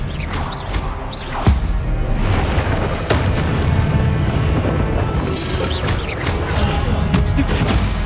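Expelliarmus spell cast during combat in the Hogwarts Legacy video game, a series of loud booming magical blasts and cracking impacts over a dense, rumbling battle backdrop, close and continuous with a few sharp hits standing out.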